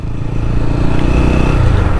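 A TVS Apache RTR 200 4V motorcycle, a 2024 BS6 model, rides in third gear, its engine a loud, steady droning rumble heard up close and continuous throughout.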